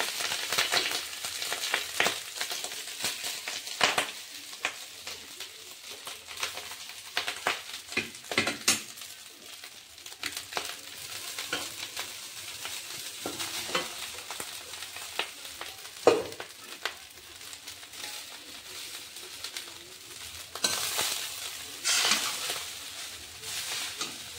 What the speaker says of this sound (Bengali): তাতে ফ্রাইড রাইস ভাতগুলি ভেজে নেব।